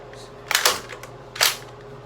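A Nerf Rival Finisher toy blaster fires twice, about a second apart, each a sharp, close mechanical snap-and-thwack burst, with faint rattling between shots.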